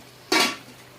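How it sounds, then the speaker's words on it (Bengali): A metal lid lifted off a pot of spinach and fish-head curry cooking on the stove, one short clanging scrape followed by a quick fading hiss of released steam. "আমি ঢাকনা খুলে দিচ্ছি"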